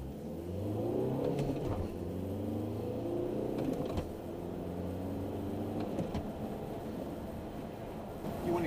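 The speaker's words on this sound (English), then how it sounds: "Word is the proper way to drive a TDI is keep the revs low, get on it, and shift fast." A 2013 VW Beetle TDI diesel with manual gearbox accelerates from inside the cabin, engine drone climbing in pitch through each gear, then dipping at quick shifts, twice over at moderate, steady loudness.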